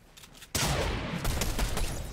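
Video game gunfire bursts into a loud, dense volley after a quiet half second, with rapid repeated shots continuing steadily through the rest.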